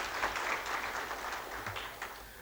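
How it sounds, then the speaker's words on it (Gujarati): An audience applauds at a public talk, a steady wash of many hands clapping together, moderately loud and continuous, fading slightly toward the end. "ભીખાભાઈને તાળીઓથી આપણે વધાવીએ"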